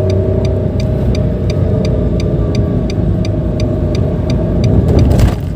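A 2014 Nissan March 1.2 L with a manual gearbox is driven on an out-of-town road. Its engine makes a loud, steady cabin drone with a regular light ticking throughout, swelling briefly near the end.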